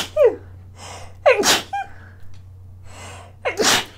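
Three sneezes in a row, each a sharp inhaled gasp followed by a loud burst, spaced about a second or more apart, close to the mic in an otherwise quiet room with a low hum.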